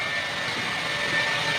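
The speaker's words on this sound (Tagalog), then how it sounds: "Umaandar na po yung ating electric motor." Electric motor running off a 3000W power inverter in a low-budget solar setup on a 12-volt battery, a steady close whirring hum that holds even throughout, with no voices.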